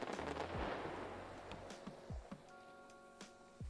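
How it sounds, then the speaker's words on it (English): Fireworks go off in the video game Old Market Simulator, a dense run of booming crackles that thins into scattered pops, with some falling whistle-like tones over a steady background hum. "I don't want to hear the fireworks ever again"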